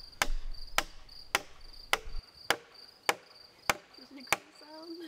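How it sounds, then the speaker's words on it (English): Hammer blows drive a wooden peg through drilled timber beams, sharp evenly spaced knocks about every half second, fairly close, over a steady outdoor insect chirr. "when I put this peg through and hammer it through, it actually pulls the joint tight together."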